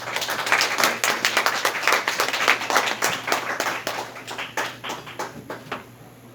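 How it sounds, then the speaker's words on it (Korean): A small group at a church prayer rally applauds a pastor, with clearly separate hand claps in a brisk, uneven rhythm that gradually thins out toward the end. "박수로 이제 환영해 주시기 바랍니다."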